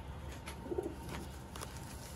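Young racing pigeons coo softly in a brief low murmur, faint against a steady background of ambient noise.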